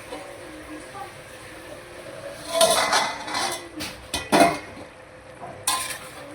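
The lid of a cooking pot of mixed vegetables is lifted with a few metallic clanks and scrapes, followed by a stirring rattle, close and fairly loud over a quiet background.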